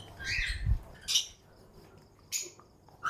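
A pet bird in an aviary lets out two or three sharp, harsh squawks while being caught and handled by hand, with quieter rustling gaps between the bursts.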